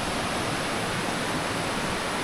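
A fast-flowing, clear mountain river on a hiking route rushes as a steady, even broadband roar with no pauses, fairly loud and close throughout and with no voices over it.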